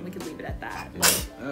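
A sick baby girl gives a sudden, bright little sneeze in the middle of an adult's conversation, one short burst between stretches of speech.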